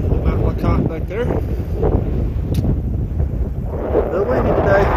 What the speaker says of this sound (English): Wind out of the north. Blowing through the trees.